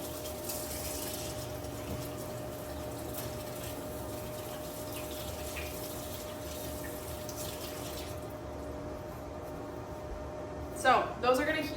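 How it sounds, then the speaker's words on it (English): A kitchen tap runs in a continuous low wash while hands are rinsed beneath it, a faint steady hiss under background room noise, then a louder splash and clatter near the end. "I'm just gonna wash my hands."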